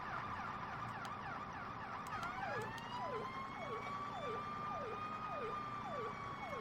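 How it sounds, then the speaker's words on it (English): Fire truck sirens in the Farming Simulator 17 video game, during a fire rescue at a barn fire, wail loudly and without pause, several sweeping tones overlapping and rising and falling in a steady cycle. "I really do like the variety of sirens."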